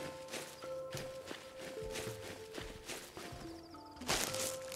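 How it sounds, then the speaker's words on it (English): Footsteps from the survival crafting first-person shooter game Hold Your Own, a steady run of soft thuds over layered game music with sustained tones, moderately quiet throughout. "I hear footsteps."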